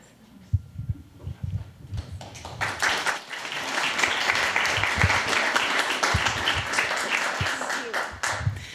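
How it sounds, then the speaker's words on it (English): An audience at a filmmaking panel discussion in Boulder, Colorado applauds its presenters, with scattered claps swelling into sustained, dense clapping that holds steady and then fades slightly, plus a few low thumps near the start. "Can we get one more round of applause for our presenters here?"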